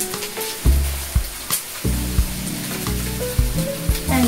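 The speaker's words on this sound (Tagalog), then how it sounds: "Igisa mo lang yung tinapa" Smoked fish (tinapa) sautéing in a hot pan, with a steady crackling sizzle and repeated sharp bursts as pieces are stirred and shifted, loud and close with no talking.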